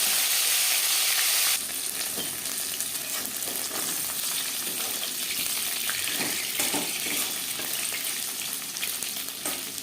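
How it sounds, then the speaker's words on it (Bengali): Fish sizzles loudly in hot oil in a pan, a dense steady crackling hiss with occasional stirring scrapes, close and unbroken throughout. "মাছ ভাজা হয়ে গেছে"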